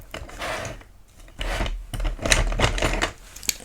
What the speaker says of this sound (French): J'efface le trait qui ne sert à rien